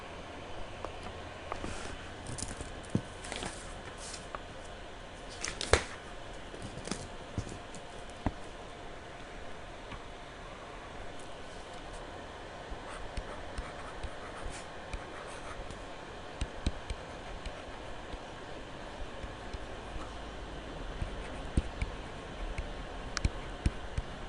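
Faint pen or marker scratching as a distance formula is written out, with soft intermittent strokes and small taps spread over a long, quiet stretch with no talking.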